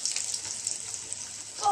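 Egg lollipops fry in a pan of hot oil with a steady bright hiss, fairly close, and a bit of clatter near the end.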